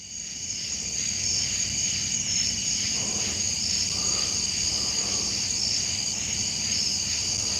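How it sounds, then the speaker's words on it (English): Crickets chirp at night beside the water in a dense, steady chorus that runs the whole time, with other insects and frogs mixed into the background hum and no voices. "crickets"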